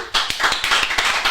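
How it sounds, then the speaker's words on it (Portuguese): Clapping from a small group of participants at an entrepreneurship talk, a short close burst of fairly loud, slightly irregular hand claps with no voices. "Cadê as palmas aí, turma?"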